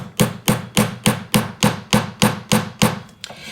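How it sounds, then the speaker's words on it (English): Eleven evenly spaced hammer taps ring out on a wide-band metal ring being textured, crisp and close, in a steady rhythm with no talking. "you do not need big, strong hammer blows"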